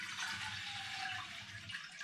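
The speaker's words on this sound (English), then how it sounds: "So next I need to add some spring water into this saucepan" Spring water pours in a steady, unbroken stream into a saucepan, a soft continuous rush heard close but fairly quiet, with no talking.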